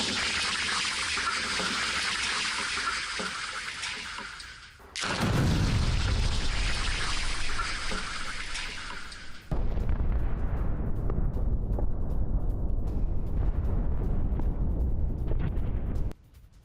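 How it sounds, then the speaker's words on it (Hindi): Heavy blasts from Israeli strikes rock Khan Younis, Gaza, with a loud booming rumble, a sharp new burst about five seconds in and another around nine seconds, each leaving a dense, roaring low-end wash with no talk. "विस्फोटक धमाकों से दहले खान यूनिस को लेकर खबर आई"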